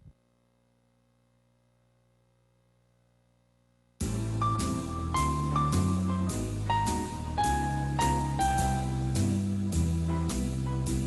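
An arranger keyboard plays a melody line over block-chord harmony and a backing accompaniment, starting abruptly after a few seconds of near silence and then sustaining at an even, full level with no voices.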